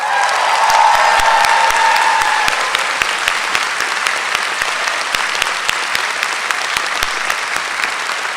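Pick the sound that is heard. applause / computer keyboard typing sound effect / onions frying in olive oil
applause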